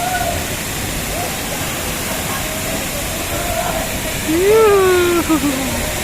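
Malabsay Falls in Camarines Sur roars as a loud, steady rush of falling water, with a voice briefly rising over it near the end.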